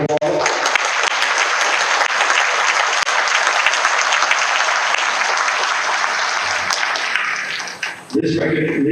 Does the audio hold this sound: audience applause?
yes